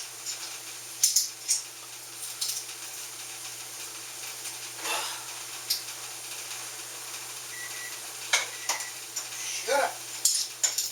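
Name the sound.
leeks, garlic and spices added to sizzling cabbage soup pot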